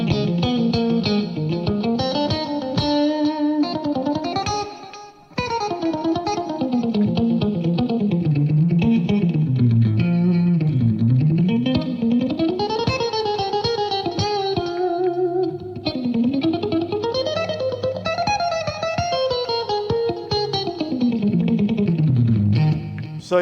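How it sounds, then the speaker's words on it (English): Distorted electric guitar plays a flowing line of passing tones, sustained notes gliding up and down with effects and reverb, continuous apart from a brief break near the start. "I'm doing a lot of passing tones"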